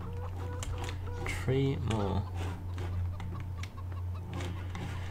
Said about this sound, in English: Where are you hiding them, chicken?